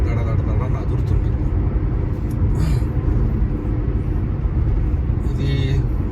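A car rumbles along an uneven four-lane cement road on the Mogili ghat route, a constant heavy low drone with a voice talking over it.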